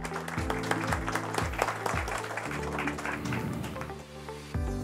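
Applause from a crowd at a respiratory medicine conference, a dense patter of clapping running throughout, mixed with a low droning tone and some background murmur.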